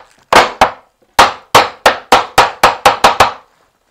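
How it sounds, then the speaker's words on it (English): A board is tamped onto semi-dry foam adhesive with about ten sharp, close wooden knocks in an uneven rhythm, each ringing briefly with nothing else heard. "we can actually tamp it back"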